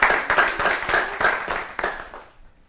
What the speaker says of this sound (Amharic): እሺ አጨብጭቡላችሁ